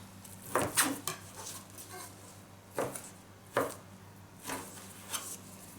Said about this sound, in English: So we're gonna cut these into roughly 1-inch pieces